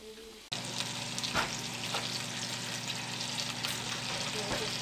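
Bangers (sausages) frying low and slow in a pan: after a brief quiet start, a loud steady sizzle and crackle sets in close by, with a few soft knocks and no talking.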